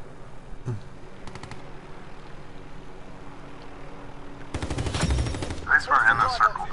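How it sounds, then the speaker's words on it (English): Gunfire in a battle royale video game: scattered shots early, then a sustained burst of rapid automatic fire near the end, loud over a steady game background with players talking. "I'm getting shot up."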